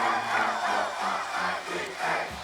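A Florida Gators football crowd roars after a field goal in a 1993 Florida State versus Florida game. Thousands of voices shout and cheer in loud, surging waves that fill the stadium.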